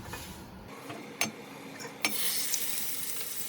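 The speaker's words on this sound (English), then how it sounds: "You can put in your steak when the pan is hot, like smoking hot" A steak goes into a smoking-hot pan. After a couple of sharp clicks, a bright, hissing sear swells up and keeps going, close and fairly quiet, with no talking.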